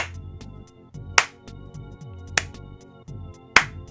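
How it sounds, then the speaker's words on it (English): Three sharp, isolated claps spaced more than a second apart, a slow clap sound effect from the Earthbound video game, heard over a soft looping synth melody in the Moonside area. "That's a slow clap."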